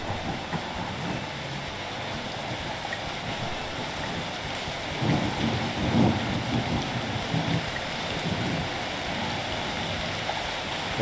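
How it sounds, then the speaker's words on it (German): Steady rain in the farming game Professional Farming, a constant dense hiss with a faint low rumble swelling briefly midway, no speech. "Wir haben Regen, alles gut."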